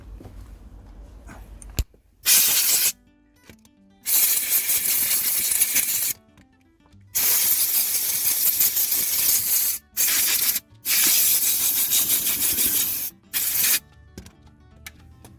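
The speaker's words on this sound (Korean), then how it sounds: "컴퓨터 잭 빼서 한번 불어 보겠습니다" Short and long bursts of compressed air blowing out a computer jack inside a Kia Sorento cabin hiss loudly in bursts of a second or two, separated by brief pauses with quiet handling sounds.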